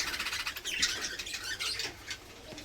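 Small pet birds kept in a breeding colony squawking and chirping continuously, a dense, fairly close chatter of several birds with no talk over it.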